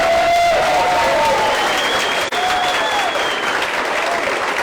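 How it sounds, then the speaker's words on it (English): Loud, sustained applause from a large crowd at a Politics in the Pub event, dense clapping filling the whole stretch with a few faint whistles or cheers mixed in. "Give her a round of applause."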